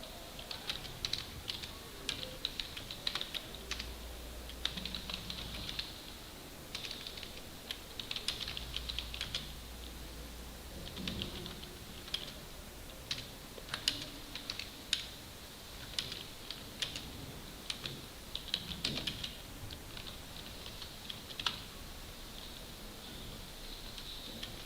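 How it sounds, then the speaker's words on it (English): Keys clatter on a computer keyboard while a paragraph is typed into MS Word 2007, a steady patter of light clicks with brief pauses over a low background hum. "begin pushing your buttons on your keyboard to be able to enter the first paragraph"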